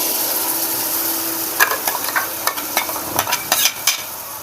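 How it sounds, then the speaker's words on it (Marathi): Tomato puree hits hot chicken masala in a pan and sets off a steady sizzle, with a few sharp clinks and scrapes of a spoon stirring it through, close and fairly quiet. "आणि लागलीच आपण ह्याच्यामध्ये टोमॅटोची प्युरी टाकून देऊ"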